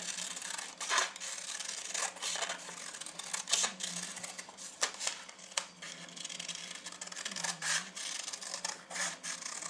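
Quiet, intermittent snipping and rubbing as craft material for cosplay shoulder armour is cut down, with irregular short cuts and scraping strokes close by.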